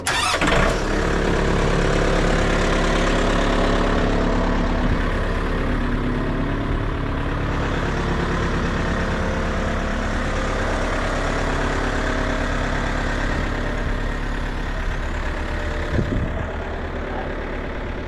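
A Kioti RX tractor's engine cranks and fires, then settles into a steady, loud idle as it warms up, running alone without voices for most of the time.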